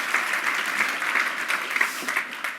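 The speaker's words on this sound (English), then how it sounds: "Give them a round of applause" A conference audience claps in a brief, steady round of applause, close and even, with no talk over it.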